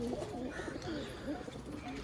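A pigeon coos softly and close by in a short rolling call, faint against quiet background noise.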